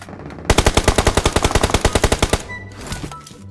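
Rapid burst of machine gun fire in PUBG Mobile, a loud, evenly spaced stream of about twenty shots lasting around two seconds, then fading into quieter in-game ambience.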